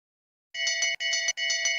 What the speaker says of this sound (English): Bell lap for Toshkov.